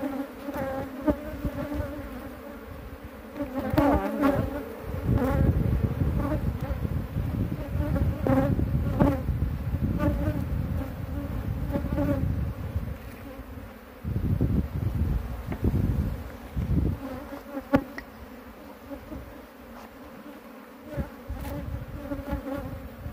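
A loud, dense swarm of bees buzzes continuously through a hive capture and transfer of very large combs in a rural setting, with rustling and handling knocks mixed in close by.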